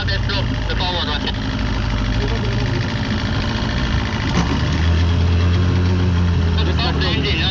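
The ship Hafnia Loire's engine runs with a steady, deep, continuous rumble throughout, while faint voices are heard over it.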